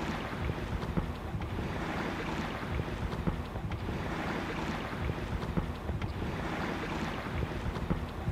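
A sailboat running with its spinnaker up on a short passage, steady wind rush and water swishing past the hull in a continuous, even wash with gentle swells in level.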